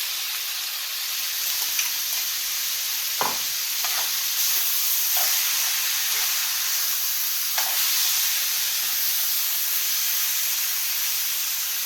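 Peas go into a pan of browned meat, setting off a sharp burst of hissing and steam over a strong, continuous sizzle, with a few soft stirring knocks.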